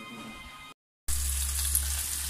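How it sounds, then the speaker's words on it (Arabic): Rice frying in butter in a pot, a dense hiss that cuts out briefly to silence, then returns louder and steady over a low rumble; short and close, with no talk. "دوكا انا نقلي في هذاك الرز"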